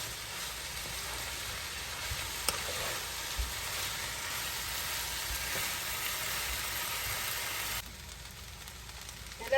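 Fried rice stirred and mixed in a hot pan, a steady close sizzle and frying hiss running throughout with faint scraping, easing slightly near the end; no talking.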